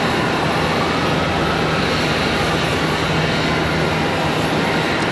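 American Airlines Airbus A319 departing Charlotte Douglas International, bound for Pittsburgh: a loud, steady broadband jet engine roar that holds constant throughout, with no voices.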